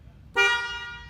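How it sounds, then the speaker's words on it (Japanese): A single honk from a Toyota Crown car horn, a thin, high, somewhat feeble tone lasting under a second, close and clear against quiet background. "クラウンの根性のないクラクションですね。"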